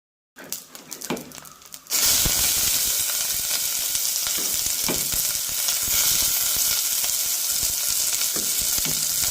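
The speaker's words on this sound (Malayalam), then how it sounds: "കൂടെ വറ്റൽമുളക്, കറിവേപ്പില, അരിഞ്ഞു വെച്ചിരിക്കുന്ന സവാള ഇട്ട് കൊടുക്കാം." Dried red chilies, curry leaves and sliced onion hit hot oil with mustard seeds; after a few light crackles, a loud, sudden sizzle erupts and holds steady, broken by occasional stirring scrapes.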